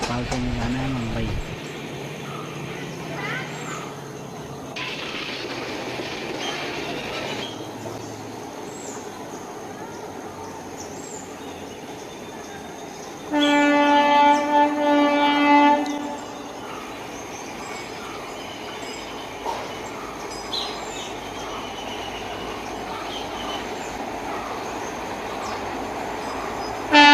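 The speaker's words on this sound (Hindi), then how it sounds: "और हम ट्रेन से चल रहे हैं।" Passenger train travelling from Bhopal to Mumbai, with a steady rumble and clatter of the carriages heard from inside, a loud horn blast partway through, and people talking over the running noise.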